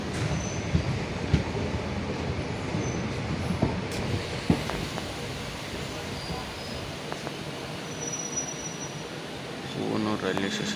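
A passenger train rolls between Ariyalur and Villupuram near Poovanur, its steady rumble and wheel noise filling the carriage with scattered clicks and rattles, then rising slightly near the end.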